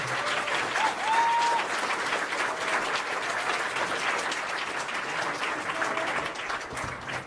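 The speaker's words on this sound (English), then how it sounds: "How about a nice round of applause for our special guests today?" Audience at a school choice roundtable hosted by Senator Rand Paul applauds its special guests, a steady, dense wash of many hands clapping that holds for several seconds without talk.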